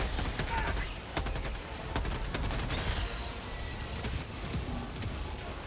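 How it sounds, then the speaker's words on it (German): A sentry turret in the video game Helldivers 2 fires rapid bursts of gunfire, sharp repeated shots over a busy battle background, fairly quiet in the mix. "Also mein Geschütz feuert noch."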